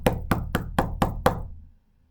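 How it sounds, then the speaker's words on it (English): Six evenly spaced knocks on a door of a brick house, sharp and close, followed by silence. "I knocked on the brick house."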